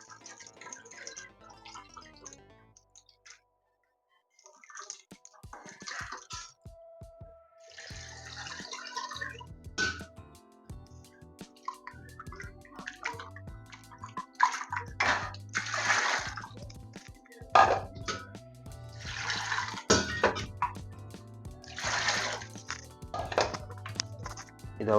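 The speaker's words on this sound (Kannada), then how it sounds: "ಹುಣಸೆ ಹುಳಿ ಬಿಡ್ತಾ ಇದ್ದೀನಿ." Hands squeeze tamarind pulp in a bowl of water for a fish sambar, giving close, intermittent wet squelches, drips and splashes with a few brief knocks and no talking.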